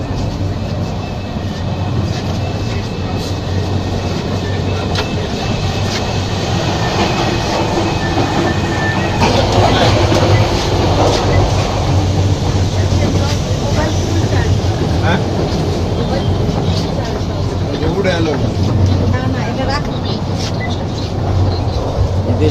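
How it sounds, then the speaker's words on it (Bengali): A tourist express train leaves Dhaka bound for Cox's Bazar, the loud continuous rumble and clatter of the rail cars heard close up from on board, steady for the whole stretch with faint voices underneath. "পর্যটন ট্রেন এক্সপ্রেস ঢাকা থেকে কক্সবাজার অভিমুখে রওনা হয়েছে"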